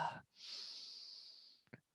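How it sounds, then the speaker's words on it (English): One long, slow, deep inhale during a guided breathing exercise, soft and airy, drawn in steadily for over a second after a brief voice sound, ending with a faint short exhale-like puff. "Again, last time, inhale."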